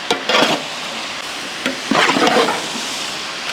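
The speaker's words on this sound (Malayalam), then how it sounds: "കുറച്ച് പച്ചമുളകും കൂടെ ഇങ്ങോട്ട് ഇട്ട് കൊടുക്കാം." Green chillies are stirred into a large pot of Kerala-style beef curry cooked for 150 people, with a few close scraping stirs over a steady sizzling, bubbling background.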